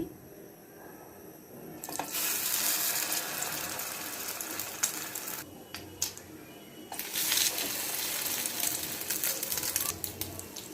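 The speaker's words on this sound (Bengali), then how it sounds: "দেখুন এভাবে রুটিগুলো আমি উল্টে পাল্টে ভেজে নিব" Steady, loud hiss and crackle of bread slices frying in hot oil in a wok, with short quieter gaps and faint clinks, close by.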